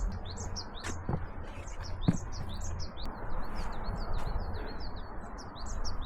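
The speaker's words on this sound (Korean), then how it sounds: "새소리가 경쾌하게 들려오네요." Birds chirping along a forested mountain trail on Palbongsan in Hongcheon, a lively string of repeated quick tweets, fairly close, over soft outdoor background noise with occasional footstep-like knocks.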